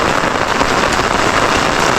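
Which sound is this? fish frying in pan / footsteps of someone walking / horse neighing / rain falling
rain falling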